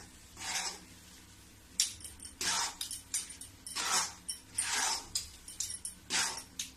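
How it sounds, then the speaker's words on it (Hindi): A slotted metal ladle scrapes and stirs a thick peda mixture made from leftover sugar syrup in a pan, giving about eight close, rhythmic scraping strokes with short pauses between them and no talking. "छोलनी से ही चलाऊंगी।"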